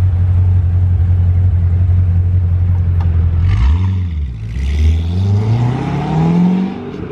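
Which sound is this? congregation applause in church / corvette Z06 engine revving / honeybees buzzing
corvette Z06 engine revving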